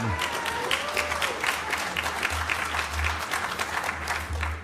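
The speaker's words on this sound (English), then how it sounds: "Earned applause." Audience applause at a 2024 Indiana Republican gubernatorial primary debate: a steady, continuous wash of clapping from a crowd, moderately loud and sustained throughout, with a low hum underneath.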